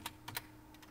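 Faint computer keyboard typing of a web address into a search bar, a few quiet, sparse key clicks in a short burst.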